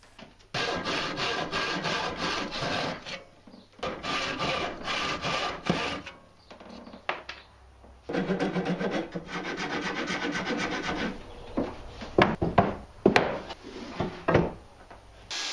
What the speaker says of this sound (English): using a rasp to adjust the fit.